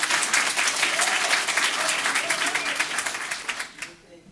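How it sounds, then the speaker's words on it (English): Dense audience applause at a Peachtree City city council meeting, many hands clapping steadily for about four seconds before fading out at the end. "You can use some of my time to applaud"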